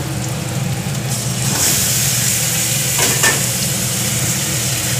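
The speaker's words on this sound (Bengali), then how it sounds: "এবার আমি মাংসটা ছেড়ে দেবো।" Marinated chicken dropped into a hot pan and frying, a loud, dense sizzle filling the whole stretch with a few stirring scrapes, close by and without talk.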